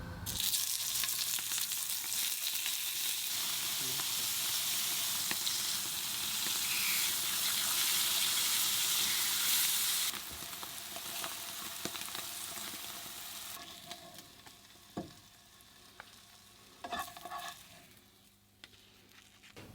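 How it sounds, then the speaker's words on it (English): Halloumi strips fry in oil in a pan with a loud, steady broadband sizzle for about ten seconds, then the hiss drops away to a quieter spitting crackle dotted with a few sharp clicks and taps. "I'm just going to fry that in some oil in a pan so it's nice and crispy on the outside"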